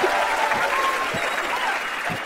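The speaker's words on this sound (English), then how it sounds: "so please cheer a lot." An audience at an Objectivist conference applauds steadily, a dense, continuous wash of clapping filling the room, with a few cheers mixed in.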